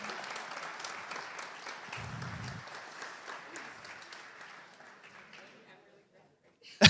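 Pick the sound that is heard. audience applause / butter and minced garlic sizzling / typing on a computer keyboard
audience applause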